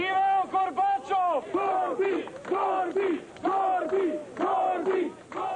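A crowd in Prague marking the anniversary of the 1968 Soviet invasion cheers and chants in loud, rhythmic bursts of massed voices, repeating in regular waves close by.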